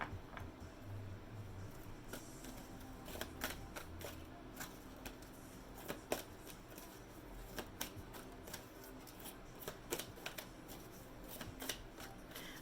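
Tarot cards shuffled by hand in a quiet room, a soft continuous riffle with crisp flicks and taps spread through, faint and close, no talk.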